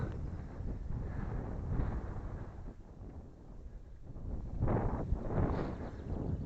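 Headwind buffets the microphone of a riding cyclist in steady rumbling gusts, loud and close, with no one speaking.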